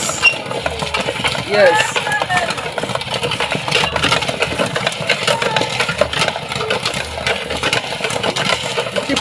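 Popcorn pops in a hand-cranked manual popcorn machine for chocolate popcorn as it is stirred: rapid, irregular clicks and pops over a rumbling mechanical churn, with a brief voice partway through.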